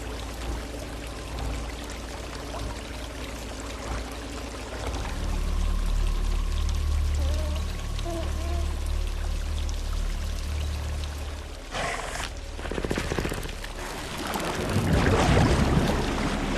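Water leaks and pours into a flooding underground bunker, a steady rushing flow that swells in the middle and surges louder near the end, with a few sharper splashes breaking through.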